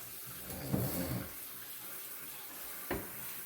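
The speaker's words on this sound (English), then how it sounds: "Let's get these into the sink with some cold water." Cold tap water runs into a kitchen sink over bok choy leaves, a steady splashing wash with two brief louder splashes as the greens are handled, heard up close with no talking.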